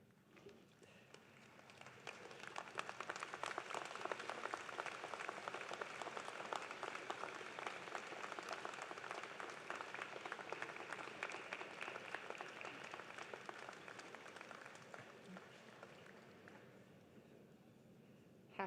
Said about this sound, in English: stand, look around you and behind you, and applaud all who have helped you to get to this point.